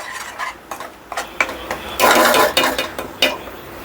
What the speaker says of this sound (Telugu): సో మధ్య మధ్యలో ఈ మసాలా కలుపుకుంటూ వేపుకుందాం